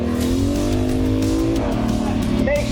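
A TC Burton LD1 SWAT ATV is floored to full throttle, its engine roaring loud and close with a rising pitch as it accelerates, and a brief voice is heard near the end.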